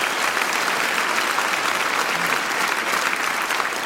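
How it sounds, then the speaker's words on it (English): Brief burst of audience applause at a quiz night for a contestant, steady and full-bodied for a few seconds with a faint murmur of the crowd beneath. "And a round of applause for Paddy."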